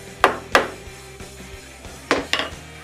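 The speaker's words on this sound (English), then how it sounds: "I put the panel in place and mark the dowel hole with a mallet" A mallet taps a wooden panel down onto dowel centering pins, giving four short, hollow knocks in two pairs with a gap between them. The taps are close and moderately loud.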